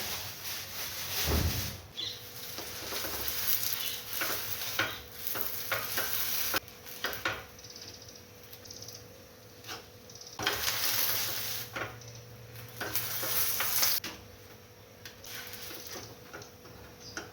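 Pav buns fried in oil on a hot griddle pan, giving a steady low sizzle punctuated by scraping and stirring clatter from a spatula, with bursts of brighter crackle throughout.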